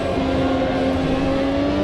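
Ferrari race car at Monza in the Automobilista 2 racing game, its engine holding a loud, steady high-pitched drone with a sustained whine at close range, no voices over it.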